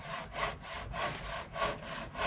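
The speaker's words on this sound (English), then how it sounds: "You hear Phil sawing in the background?" Hand saw cutting wood for garden raised-bed panels, rhythmic back-and-forth rasping strokes, about five pulls, moderately near and alone without talk.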